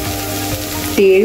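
A ground paste of sesame, roasted chana dal, peanuts and chili being sautéed with soft onion, tomato and garlic, a close, loud continuous sizzle with stirring that swells in the final moment.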